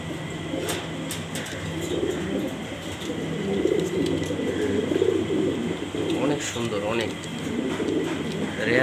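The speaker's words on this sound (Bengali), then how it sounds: "এক পেয়ার কবুতর অ্যান্ডালুজিয়ান কালার" A pair of Andalusian-colour pigeons cooing softly and repeatedly nearby, with a low background hum and some faint chatter.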